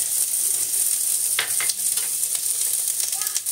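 Minced garlic sizzles loudly in hot olive oil in a pan, a bright continuous crackle with a few quick stirring scrapes in the middle and toward the end.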